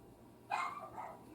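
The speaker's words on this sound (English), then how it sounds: "I'm sorry if you hear my puppies." Puppies give a short, faint bark or yip at a distance, alone in a quiet indoor room.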